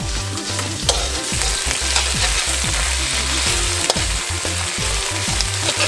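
Freshly caught crabs sauté with fresh ginger in a hot pan, a loud continuous sizzle broken by frequent scraping and clanking stirs, close and without talk.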